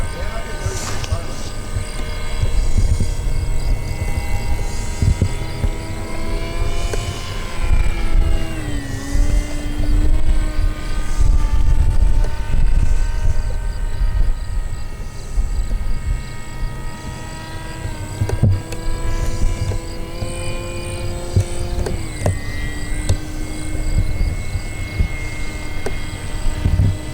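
A Hobby King Sky Eye radio-controlled model airplane flies steadily throughout, its small motor droning with rising and falling pitch as it passes, loud and continuous, with people talking over it.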